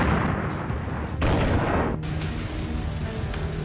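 Cluster bomb explosions in the Russia-Ukraine war roar as a dense, continuous rumble of overlapping blasts, loud and booming, with a sharp surge midway through.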